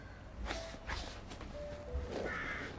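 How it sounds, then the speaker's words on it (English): A crow calls outdoors with a few short caws at moderate distance, layered over steady background noise and light thumps, and no one speaks. "We've got a little crow or something."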